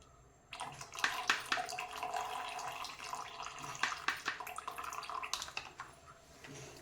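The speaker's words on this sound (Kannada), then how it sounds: "ಈ ಹಾಲಿಗೆ ಈಗ ನಾನು ಕಲಿಸಿಟ್ಟಿರುವಂಥ ಕಸ್ಟರ್ಡ್ ಪೌಡರನ್ನು ಸೇರಿಸ್ತಾ ಇದ್ದೀನಿ." Mixed custard powder poured into boiling milk gives a near, continuous liquid pouring and splashing sound that starts abruptly and runs for several seconds with small bubbling pops, no talking.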